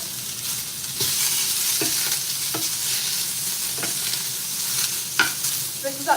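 Steak bites searing in a cast iron pan, a steady loud sizzle with occasional sharper pops and scraping stirs, no talking.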